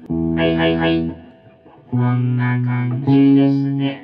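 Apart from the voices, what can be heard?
voice through BOSS VO-1 vocoder in vintage mode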